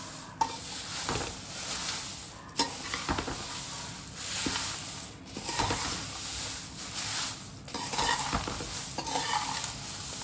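A spoon scrapes and stirs roasted moringa and curry leaf powder ingredients in a pan with a faint sizzle underneath, rhythmic knocks against the metal recurring every couple of seconds.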